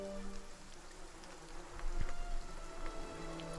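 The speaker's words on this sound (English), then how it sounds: "The only answer you hear is the buzzing of flies from the tree." Flies buzzing around a tree in the fantasy role-playing game Pillars of Eternity, a faint, steady insect drone over a soft ambient outdoor bed with occasional light ticks.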